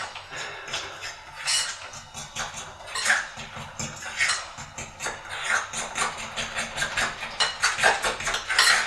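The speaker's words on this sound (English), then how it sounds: "You just mix it with your fork" A fork mixing wet dough with clumps of butter in a bowl, giving rhythmic scraping and clinking strokes that repeat steadily and close up, with no talking.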